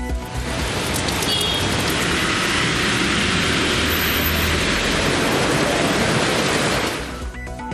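Rain falling across an area, heard as a loud, dense, steady hiss of broadband noise that continues evenly for several seconds before fading at the end, with no voices.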